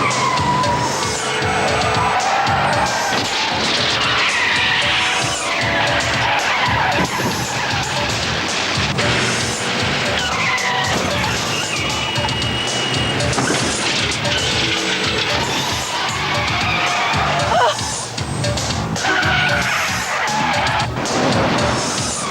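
A car accelerates hard during a chase, with loud tire squeals and skidding over roaring engine noise and occasional impacts, sustained throughout.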